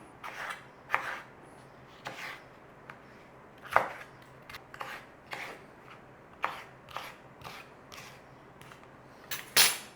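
A knife chops ingredients into cubes on a board for a one-pan creamy beef pasta, with irregular sharp thuds and light scraping at close range and no talking.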